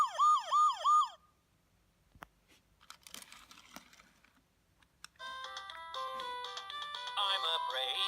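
A Vtech Toot Toot Drivers toy police car plays a bright electronic wailing siren in a few quick rising-falling sweeps, then a pause with faint clicks, and finally a tinny electronic tune loops steadily to the end.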